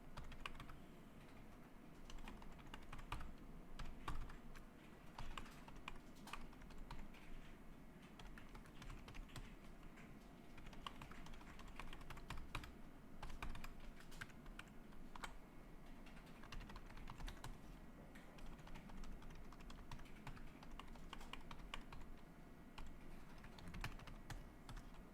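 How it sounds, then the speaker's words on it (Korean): Steady typing on a computer keyboard, a continuous run of quick, light key clicks close up with no voice. "그리고 이렇게 직접 타이핑하는"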